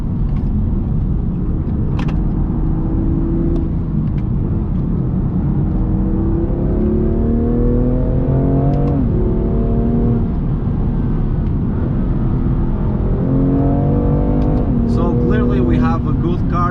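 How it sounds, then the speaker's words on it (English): A fast car, in a setting where a BMW M2 Competition is being driven, passes on the road, its engine note rising and falling under continuous talk from someone inside a car whose own engine hums steadily throughout. "Here, a fast car."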